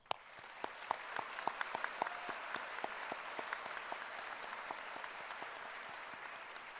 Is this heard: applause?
yes